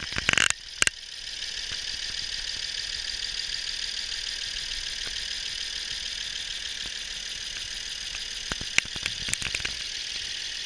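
2011 BMW 750Li V8 engine idling warm, a faint steady hum with a whine, heard from close by with a few clicks and knocks at the start and near the end.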